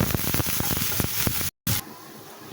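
Onions fry lightly in a pan with a dense, steady sizzle and scattered pops, close by, cut by a brief silence before the sizzle carries on more softly.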